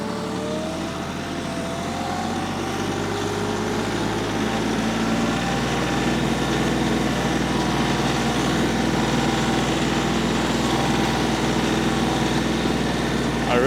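A tractor in four-wheel drive moves garden soil, its engine running in a loud, continuous drone that swells slightly partway through and holds steady to the end.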